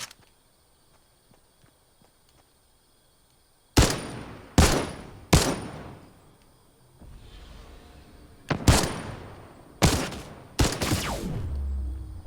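Video game gunfire: after a quiet stretch, a series of loud sharp shots bursts out in separated groups, each crack ringing off with a short decaying tail, with no talk over it.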